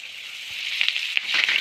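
Curry leaves tossed into hot oil for a puliyogare tempering give a steady sizzle that swells, with sharp crackles and pops toward the end.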